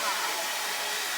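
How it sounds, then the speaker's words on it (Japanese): A hair dryer runs steadily inside a parked camper van on a cold, snowy family road trip; a constant, close, loud blowing whoosh with no break and no talking. "車でドライヤーできる"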